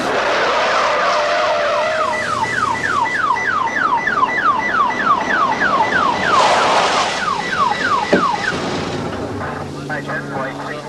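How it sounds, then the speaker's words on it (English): A loud ambulance siren wails in rapid repeating cycles, close by and continuous, with traffic noise underneath. "We've got an ambulance on the way."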